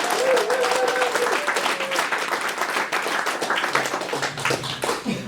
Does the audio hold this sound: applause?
yes